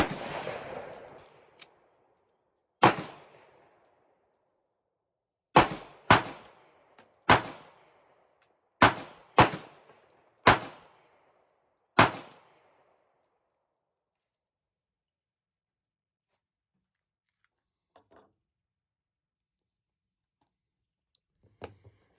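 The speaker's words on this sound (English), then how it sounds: "I really enjoyed shooting this pistol." Sharp gunshots from a Ruger LCP Max .380 double-stack pocket pistol ring out in separate loud reports, a single shot then a quick string of seven, each with a short fading echo against near silence.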